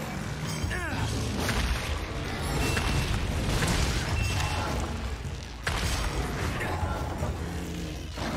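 A repulsion cannon fires in the video game Monster Hunter Rise, with heavy booming blasts and mechanical crashes over a dense, loud battle soundtrack. A sharp break about two thirds through follows a big impact.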